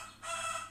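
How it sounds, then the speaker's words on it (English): A rooster or hen in a village calls once from a short distance, a brief moderately loud cry alone with no talking. "This hen, I mean, like I'm at my village, so you need to get adjusted with this sounds"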